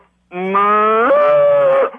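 A voice imitates a cow mooing, one drawn-out, tonal moo that rises in pitch and holds, loud and close with nothing else around it.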